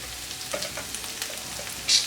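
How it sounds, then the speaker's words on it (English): Vegan stir-fry with rice simmering in a pan gives a steady close hiss of bubbling and sizzling, scattered with soft crackles and pops, and no voices. "let that continue to simmer"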